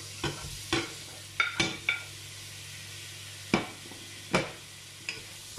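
A pork chop sizzles in a hot pan with a low, steady frying hiss, broken by sharp utensil clacks and scrapes against the pan at irregular intervals.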